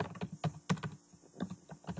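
Quiet, close typing on a computer keyboard while setting up a Lotus Domino R8.5 server, a steady patter of individual key clicks with brief pauses between short runs.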